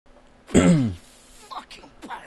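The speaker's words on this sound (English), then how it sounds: "Sorry for clearing my throat there." A single loud, rough throat clearing from a man playing a pirate video game, followed by quieter mouth clicks and breaths.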